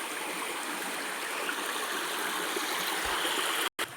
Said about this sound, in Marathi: आपण बघू शकतो हे पाटाचं पाणी कसं वाहतंय.